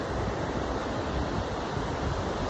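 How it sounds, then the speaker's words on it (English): Ocean breeze and surf on a fine sandy beach at Año Nuevo State Park, a steady broadband roar of wind and breaking waves, continuous and close with wind buffeting the microphone. "Ocean breeze"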